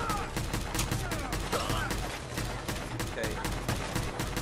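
Rapid bursts of gunfire in Fallout 4 survival mode, repeated shots from an assault rifle and incoming rounds, dense and continuous with voices talking over the game sounds.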